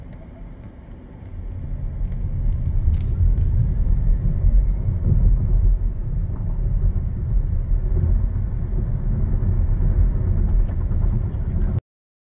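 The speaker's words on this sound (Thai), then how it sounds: "ลอง0ถึง100ครับในตัวฉินครับอันนี้ normal mode" BYD Qin car accelerating from 0 to 100 km/h in normal mode, heard from inside as a steady low rumble and road roar that builds slightly and holds, then cuts off abruptly.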